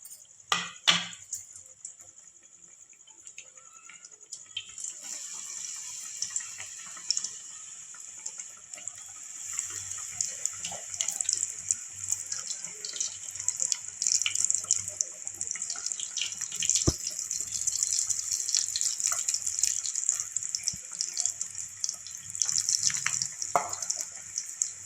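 Batter-dipped potato balls for vada pav deep-fry in hot oil, with a continuous hiss and crackle that builds after the first few seconds and carries on steadily, close by and without talk.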